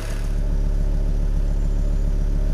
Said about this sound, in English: no gem spotting video is really complete without some exhaust noise